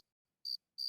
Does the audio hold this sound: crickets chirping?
yes